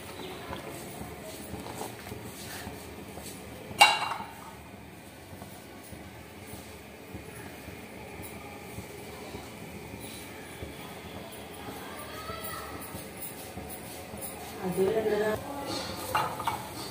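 A spoon stirs boiling milk in a pot as it thickens into khoya, making soft rhythmic scrapes and light clinks against the metal. A voice talks steadily over the stirring, and one louder knock stands out.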